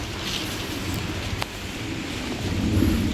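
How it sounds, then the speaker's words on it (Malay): Heavy rain pours steadily at a campsite, a dense continuous hiss with a brief sharper crack near the middle and swelling intensity toward the end. "Hujan lebat juga ni."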